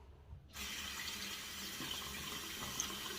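A water tap turns on and runs steadily into a sink for rinsing the handle of a shaving brush, a constant close hiss of flowing water with no talking.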